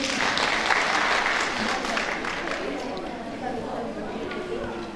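Sustained audience applause at an International Women's Day event, a dense, even wash of many hands clapping that holds steady and fades slightly toward the end, with faint chatter and voices underneath.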